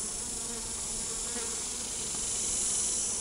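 Honey bees in a top bar hive give off a steady, dense buzzing drone that carries on without a break, close to the listener and fairly loud, with no talking over it.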